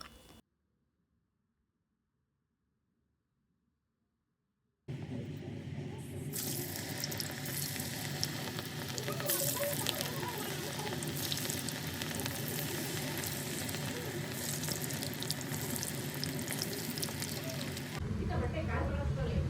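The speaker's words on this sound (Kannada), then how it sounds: "ಆಯಿಲ್ ಕೂಡ ಕಾದಿದೆ. ಬನ್ನಿ ಫ್ರೈ ಮಾಡೋಣ." Cauliflower florets for gobi manchurian deep-frying in hot oil, a steady dense sizzle and crackle running for about thirteen seconds after near silence, close and loud, with faint stirring in the bubbling.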